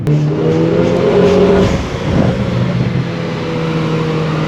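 A loud Renault Clio 4 RS Cup Phase II engine revs and roars steadily, with a brief surge in pitch midway, close and continuous with no voices.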